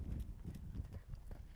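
Horse hooves trotting over raised poles in a schooling session, a steady two-beat clip-clop of fairly close, moderately loud footfalls with a faint soft thud on each stride.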